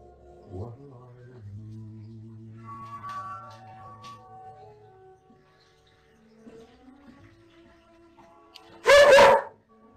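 A dog indoors at home makes whining, drawn-out tones, then lets out one loud, sharp, close bark near the end.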